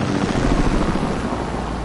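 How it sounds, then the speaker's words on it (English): Loud, continuous rotor rumble of a helicopter flying nearby in a video game, a dense low drone filling the whole short moment with no break. "you hear that helicopter?"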